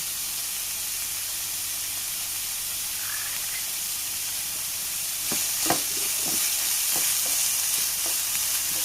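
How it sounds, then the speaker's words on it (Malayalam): Finely chopped onion and carrot sauté in a pan for a snack filling. A faint, even hiss swells into a louder sizzle halfway through, punctuated by quick stirring clicks and taps. "നല്ലപോലെ വഴറ്റി വഴറ്റിയെടുക്കണം"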